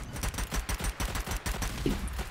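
A ricochet rifle fires in a multiplayer video game, a rapid fusillade of about a dozen sharp, evenly spaced shots, loud and close with no talk.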